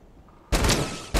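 Gunfire in the video game Fortnite, two loud, close shots or short bursts, the first longer and ringing, the second brief at the very end, after a quiet start.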